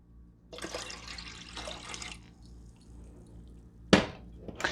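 Orange juice pours steadily for a couple of seconds, then stops, followed by a sharp clunk and a brief rustle close by.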